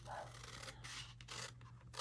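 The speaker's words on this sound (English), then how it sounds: "Cut along your score marks" Scissors snip through patterned paper along score marks in a small Easter basket craft, a steady close run of soft crisp cuts and rubbing paper with a low hum behind.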